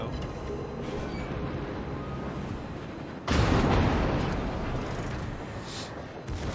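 Naval guns on warships in World of Warships rumble amid a low battle drone, then a heavy, loud boom bursts in midway and decays slowly into a sustained roar.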